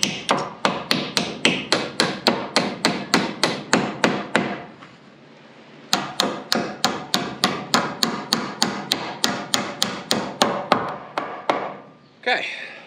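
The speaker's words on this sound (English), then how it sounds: "now we'll have to nail out all these nails." Rapid, evenly spaced hammer blows driving nails out of wood, loud and close, in two long runs of sharp strikes separated by a short pause, ending with a scrape and a softer clatter.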